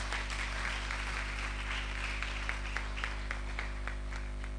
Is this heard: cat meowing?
no